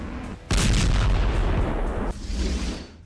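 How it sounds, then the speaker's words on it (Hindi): A heavy explosion from Israeli airstrikes in southern Lebanon erupts suddenly, a deep booming roar that rumbles on for a couple of seconds before fading, with a second surge of rumble as it dies away. "एयर स्ट्राइक से फिर थर्राया लेबनान। हिजबुल्लाह पर इजराइल के ताबड़तोड़ हमले।"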